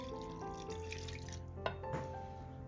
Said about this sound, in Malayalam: നമ്മൾ ഉഴുന്ന് കുതിർത്ത വെള്ളത്തിൽ നിന്നും കുറച്ച് വെള്ളം ഈ ജാറിലേക്ക് ഒഴിച്ചു കൊടുക്കാം